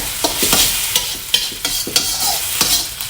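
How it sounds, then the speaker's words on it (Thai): Eggs are stir-fried in a hot, oiled pan for fried noodles: quick, repeated scraping strokes of a spatula over a steady sizzle, close and loud, with no talking. "แล้วก็คั่วไข่นะคะ"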